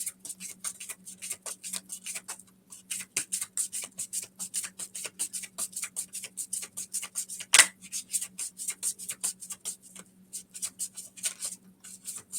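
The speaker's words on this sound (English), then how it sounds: "So I'm just going to shuffle the cards, Drew" Tarot cards being shuffled by hand during a card reading: a long run of soft, rapid flicking clicks and riffles, fairly quiet and close, with a steady low hum underneath and one sharp knock midway.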